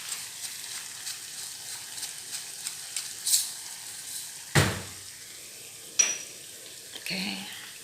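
Nasi goreng rice frying and being stirred in a pan, a quiet steady sizzle with soft scraping stirs and a couple of sharp clanks of the utensil against the pan.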